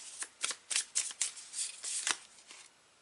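Tarot cards riffle and slide in a run of quick shuffling bursts, close and fairly quiet, each flurry a crisp papery flutter with brief gaps.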